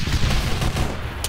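Gunfire in the military shooter Arma 3, a continuous rumbling barrage of shots close by, with dense overlapping blasts and no break.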